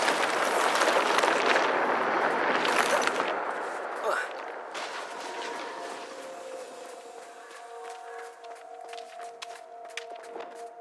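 Bombarda spell cast in the Hogwarts Legacy video game: a loud, dense burst of blasting noise for the first few seconds, then fading into lingering crackles and tonal game effects.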